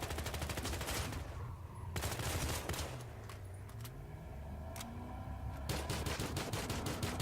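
Starting gun firing in Battlefield Hardline, a video game: loud, rapid bursts of automatic gunfire fill the whole stretch, with brief pauses between volleys.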